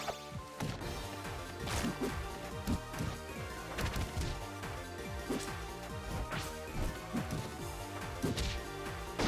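Heavy impact hits from a forward smash attack in the fighting game Rivals of Aether, a string of sharp whacks and crashes layered over dense, continuous game music and effects.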